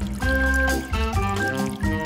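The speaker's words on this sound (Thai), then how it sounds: "เริ่มแรกต้องเทน้ำมันลงไปบนกระทะ" Cooking oil pours into a frying pan, a steady liquid gurgle in uneven glugs with short pauses between them, close and fairly loud.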